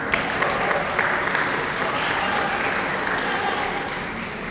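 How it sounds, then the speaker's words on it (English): Audience at an inter-secondary school debate giving a round of applause, a sustained even roar of many hands clapping that tapers slightly toward the end, with some voices underneath. "Give her a round of applause."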